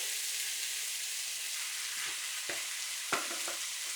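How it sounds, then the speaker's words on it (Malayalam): Cooked rice is stir-fried in a pan with soy sauce and chili under a constant hiss of sizzling, with a few soft scrapes and taps of a spatula against the pan. "അപ്പോൾ ഞാൻ റൈസ് തട്ടി കൊടുക്കുവാണ്."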